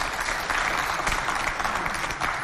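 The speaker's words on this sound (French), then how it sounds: "On applaudit s'il vous plaît très très fort pour Chancela." An audience applauds on a talk show stage, steady clapping sustained for the whole moment at a fairly loud level, with no voices rising above it.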